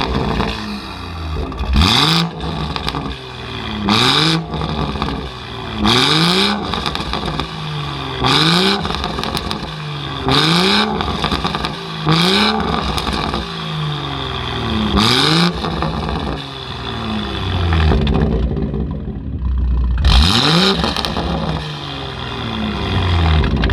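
A Stage 2 BMW M140i with a Quicksilver exhaust pulls away hard, loud repeated revving climbs through the gears with sharp pops and crackles between shifts, close and aggressive, easing briefly before one more rising pull.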